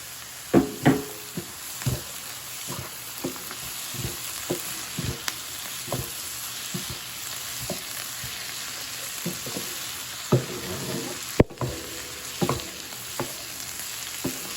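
Garlic sizzles steadily in a hot pan while bolognese is being cooked, with a continuous frying hiss broken by scattered clinks and scrapes of stirring, close and moderately loud, with no voices.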